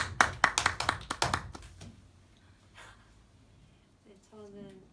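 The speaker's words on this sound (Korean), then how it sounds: "박수 한번 주세요" Brief clapping from a small group at a primary school physical education teachers' training session, a handful of sharp claps in the first two seconds, then quiet, with a voice starting near the end.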